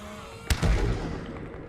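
An underwater creature explodes in the Subnautica video game: one sharp pop, then a short, rumbling burst that fades out within about a second.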